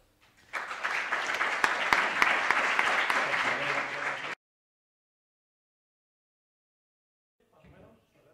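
Applause from an audience at a GDG Burgos tech-community presentation: sustained, dense clapping for about four seconds that stops abruptly, followed by silence and a brief faint murmur.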